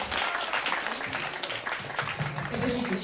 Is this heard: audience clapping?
yes